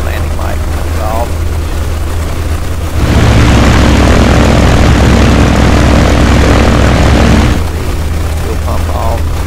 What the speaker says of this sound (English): We'll let that prop stop spinning.